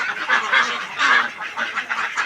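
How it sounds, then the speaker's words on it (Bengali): Pekin and Jing Ding ducks call out during heavy rain, giving a run of repeated, nasal quacks that rise and fall at close range over a soft, steady background. "আসলেই সুন্দর লাগতেছে হাঁসগুলো"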